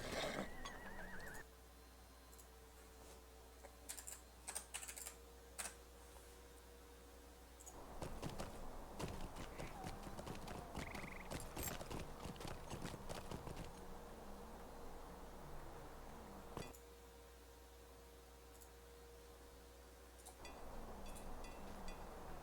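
In the video game LotRO, a horse neighs and whinnies while hooves clip-clop in bursts, faint and distant over a quiet background hum, with no voices.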